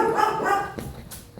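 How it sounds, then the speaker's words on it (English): Two dogs, one small and one big, bark close by in a short burst of sharp, loud barks indoors. "And there are my dogs."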